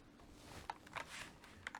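A Corsair K100 RGB gaming keyboard is typed on in a short, quiet burst of scattered clicky keystrokes, close but faint, with no talking.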